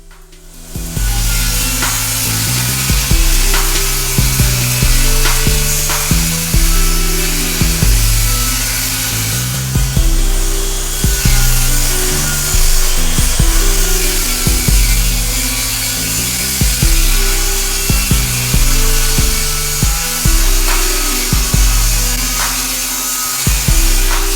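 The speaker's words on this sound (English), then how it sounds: "Here I am using my Kreg jig rip cut to rip down some lumber." A circular saw guided by a Kreg Rip-Cut jig rips lengthwise through lumber for a mobile assembly workbench, a loud, steady whining drone with a pulsing low hum that runs the whole time without talk.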